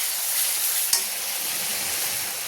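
Masala for a Bengali fish curry sizzles steadily in hot oil as a few green chillies go in, with one brief sharp crackle near the start amid the constant frying hiss.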